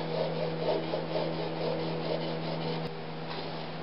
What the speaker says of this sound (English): Okay, stropping motion.